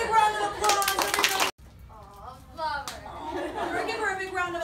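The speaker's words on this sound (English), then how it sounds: "Give her a big round of applause, everybody." A classroom audience claps for about a second and a half in a dense burst, then it cuts to chatter and talking voices.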